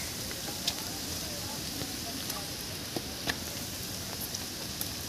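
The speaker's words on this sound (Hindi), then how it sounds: "ये बारिश रुकने का नाम नहीं ले रही है, सुबह से बारिश ही हो रही है" Rain near a hill trail in Mumbai, falling steadily as a dense hiss, with a few faint drips or taps over it and no talking.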